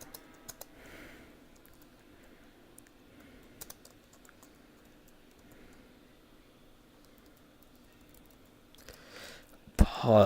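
Typing on a computer keyboard comes through as sparse, quiet key clicks over a low steady hum, ending in a louder burst of noise near the end.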